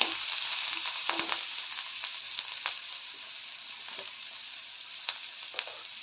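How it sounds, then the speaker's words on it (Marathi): Onions and curry leaves frying in a pan with a little salt, a steady close hiss of oil with occasional sharp pops and crackles scattered through. "कांदा लालसर होईपर्यंत भाजून घेऊया"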